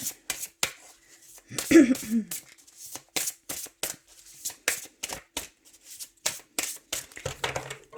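Oracle cards of angels, gods and goddesses riffle and slap in a rapid series of crisp bursts, close up, with a voice speaking briefly in the middle.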